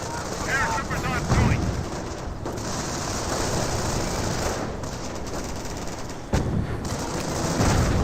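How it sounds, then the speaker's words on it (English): A mortar hit in the Company of Heroes war strategy game, a dense battle din of gunfire and blasts with a sharp explosive burst standing out, while a voice talks over the action. "Good hit there by the mortar,"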